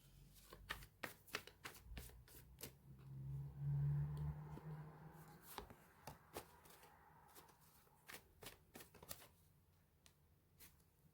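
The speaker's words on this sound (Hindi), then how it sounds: "तो मैं यहाँ पर कार्ड पहले निकाल लेती हूँ ग्रुप 1 वालों के लिए" Tarot and oracle cards are shuffled and drawn for a pick-a-card reading. Close, crisp riffles and flicks come in a quick, uneven rhythm with a soft swell of sliding cards partway through.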